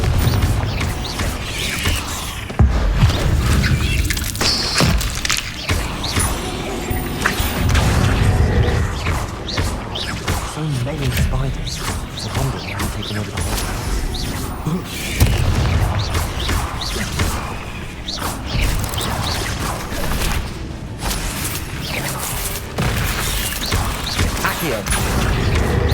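Spell combat in Hogwarts Legacy with repeated booming, crashing blasts of the Confringo explosion spell and whooshing casts, dense and continuous over a rumbling low end.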